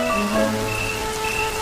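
Rain falling in the Serengeti, a steady soft patter with no distinct drops standing out, heard alongside faint tonal background sounds.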